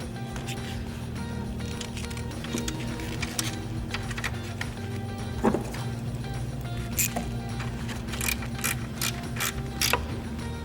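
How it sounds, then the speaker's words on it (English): A 10mm socket ratchet loosening a nut on a ground connection of a Jeep Wrangler JL, with soft clicking ratchet strokes and small metallic taps, denser toward the end, over a steady background hum. "We're going to use the 10mm socket to remove this nut and connect the ground wire here."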